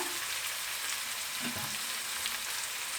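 Onions with a pinch of salt sautéing in a pan for a Kerala egg roast, giving a steady broadband sizzle with a faint stir or scrape of the pan partway through; no talking.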